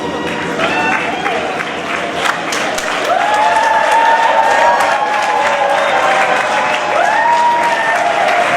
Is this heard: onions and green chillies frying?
no